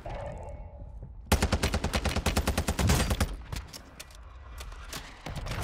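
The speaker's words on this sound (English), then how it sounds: "Where the fuck am I getting shot at from, bro?" Warzone gameplay gunfire: a sudden, loud burst of rapid automatic shots runs for about a second and a half, then trails into scattered, more distant single shots and rattles.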